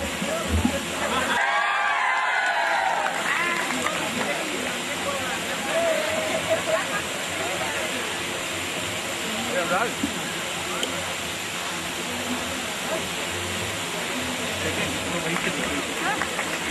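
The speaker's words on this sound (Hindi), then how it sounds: "एक बार और तालियां इनके लिए" Applause from the audience at the 2014 Aryenthem student event, a dense steady wash of clapping running throughout, with a brief louder burst early on and a voice speaking over it.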